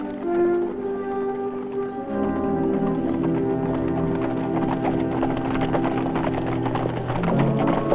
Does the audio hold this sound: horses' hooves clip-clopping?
yes